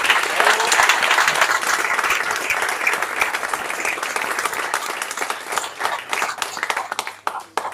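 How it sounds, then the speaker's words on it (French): Audience applause at a press conference for a boxing gala, with the room clapping warmly and thinning out toward the end into a few scattered, separate claps. "je voudrais juste qu'on l'applaudisse"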